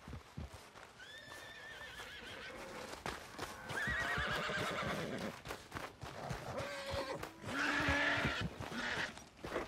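In the video game Red Dead Redemption 2, a horse whinnies several times in drawn-out, wavering calls while its hooves clip-clop and thud close by, with no talk over the sounds.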